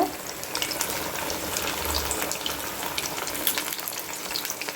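Steady, dense sizzling of fish frying in hot oil in a pan, a continuous crackle with no voices.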